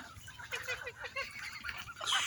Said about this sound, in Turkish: Suyun başında tavuklar, horozlar.